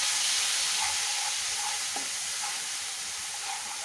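Ginger-chili paste and asafoetida fry in a hot pan of oil, making a dense, steady hiss and sizzle that stays close and constant, easing slightly toward the end, with no voices.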